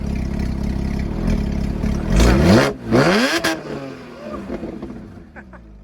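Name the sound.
Porsche Cayman S 987.1 engine revving with aftermarket full exhaust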